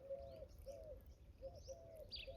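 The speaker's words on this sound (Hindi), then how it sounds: "ये चिड़िया आ गई" Repeated soft cooing phrases from a pigeon or dove, steady and fairly close, with faint higher bird chirps over a low background rumble and no talking.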